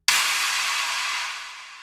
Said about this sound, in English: I just need a slight amount of this clap impact,